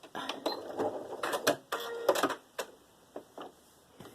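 Domestic sewing machine stitching fabric scraps in free-motion work, heard as close, uneven bursts of rapid mechanical needle clatter broken by short pauses and isolated clicks.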